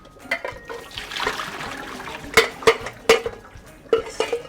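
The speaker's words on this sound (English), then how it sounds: "drain off the boiling hot water." Boiling hot water poured from a pot of eggs into a kitchen sink, a close splashing gush with several sharp clanks of the pot against the sink.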